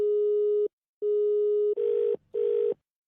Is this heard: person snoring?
no